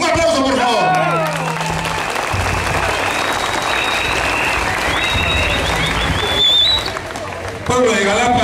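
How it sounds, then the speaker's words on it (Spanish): Applause and cheering from a crowd at an outdoor public gathering in Jalapa, a broad steady wash of clapping that rises near the end, with scattered voices and shouts mixed in. "Un aplauso, por favor"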